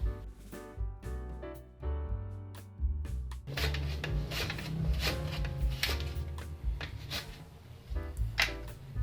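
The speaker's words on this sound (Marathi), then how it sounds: "केळीला अशी उभी पकडायची आणि असे काप करून घ्यायचे।" A knife slices lengthwise through a banana to cut large wafer pieces, giving close, soft rasping cuts and light scraping over a continuous background hum.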